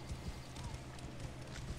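Horses' hooves clip-clop in a rapid rhythmic patter in the video game Assassin's Creed Origins, several close steady beats running under a faint game backdrop.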